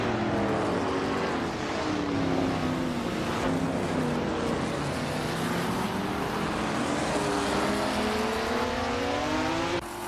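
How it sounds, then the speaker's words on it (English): A 1966 Chaparral 2E race car drives at speed, its engine roaring steadily with rising pitch sweeps as it revs and accelerates, loud and close, with a brief voice heard over it. "Lian Yashin is driving a 1966 Chaparral 2E, which is known for its innovative aerodynamics."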